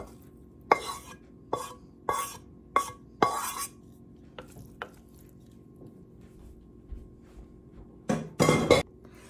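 Ceramic and metal clinks as browned stuffed pepper soup base with tomato paste and spices is scooped into a crock pot, several sharp scrapes and knocks spaced apart, then a louder cluster of clatter near the end.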